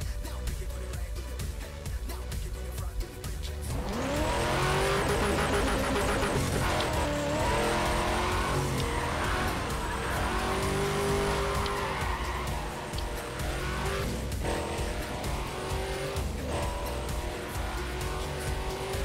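A car engine revs up loudly near the listener, rising in pitch and holding a strong roar through a series of revs and shifts, with no talk over it.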